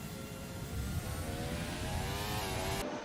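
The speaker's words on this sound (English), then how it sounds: "The engine sounds a little loud on board." Onboard engine of a Formula 1 car at the German Grand Prix in a racing video game, a steady loud high-pitched whine rising in pitch as it accelerates, running continuously and close until it cuts off near the end.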